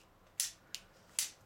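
An Edison FBI toy cap revolver, a small metal children's gun, fires paper caps three times in sharp, loud cracks about half a second apart, close by with no talking.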